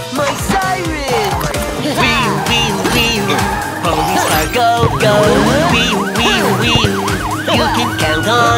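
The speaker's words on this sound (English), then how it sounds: "I found my siren" A cartoon ambulance siren wails continuously in rising and falling sweeps over a busy kids' song backing, loud and close throughout.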